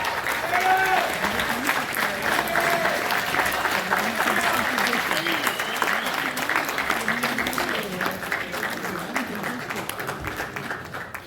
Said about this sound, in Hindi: जोरदार तालियां साथियों।